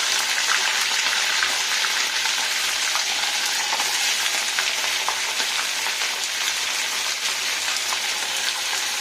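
Chicken pieces frying in hot oil produce a loud, dense, unbroken sizzle and crackle close by, steady for the whole stretch with no talking.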